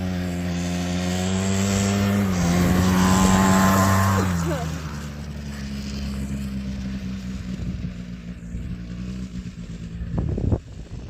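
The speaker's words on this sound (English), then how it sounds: "He's trying to catch her on his nice quad bike." A quad bike engine droning while riding, its steady harmonic hum rising in pitch and level, then falling away as it passes, with a short sharp knock near the end.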